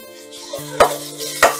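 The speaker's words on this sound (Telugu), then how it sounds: "ఈ అల్లం వెల్లుల్లి పేస్ట్ పచ్చివాసన పోయేదాకా వేగనివ్వాలి." Ginger garlic paste frying with onions in a pan for a small fish curry, a soft sizzle broken by two sharp stirring scrapes of a spoon against the pan, close and fairly quiet.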